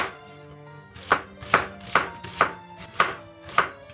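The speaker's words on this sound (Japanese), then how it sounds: "玉ねぎは繊維に沿って切っていきましょう" Six crisp, regular knife strokes slice an onion along its fibers on a cutting board, each a sharp tap with a steady rhythm and quiet between.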